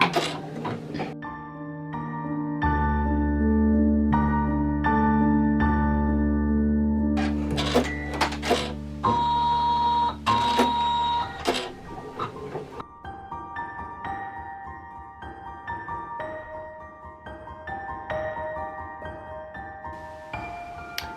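Embroidery machine stitching shoelace holes on a fabric sensory toy, a steady mechanical whir and rapid needle chatter that runs continuously, pauses and shifts pace with brief clunks, close and alone without talk.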